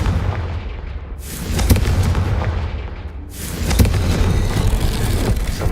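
Spell explosions from Bombarda and Confringo in the Hogwarts Legacy video game: two loud, broad blasts with rumbling bursts and crackling debris, each swelling then tailing off, with no talk.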